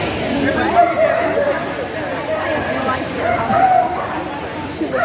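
Big dogs bark repeatedly at a Clumber Spaniel dog show, with yips and whimpers mixed in among people talking and background chatter.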